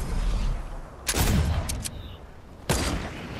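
Gunshots fired at targets in a video game, two sharp loud blasts about a second and a half apart over a steady low background rumble.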